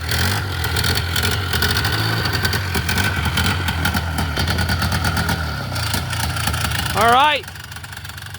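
An engine on a Polaris 4x4 idles steadily and close by, a constant low chugging throughout, with a voice talking over it and a short squealing sound near the end.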